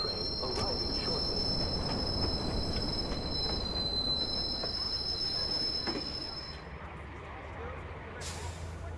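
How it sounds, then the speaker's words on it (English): A subway train pulls into a station in the Watch Dogs video game, with grinding rails, squealing wheels and a high brake whine, ending with a hiss; an announcement voice speaks over it. "Northbound train arriving shortly."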